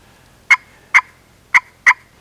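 A slate turkey pot call gives four sharp, evenly spaced clucks and cuts, short popping yelps of friction that stand alone, close and clear, with near-silent gaps between them.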